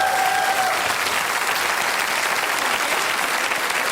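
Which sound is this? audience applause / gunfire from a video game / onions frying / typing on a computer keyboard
audience applause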